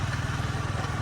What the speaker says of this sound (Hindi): और अभी मैं बाइक पे जा रहा हूँ जल्दी